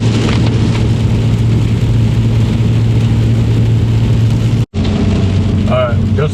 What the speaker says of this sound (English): It's a little brighter, but still raining.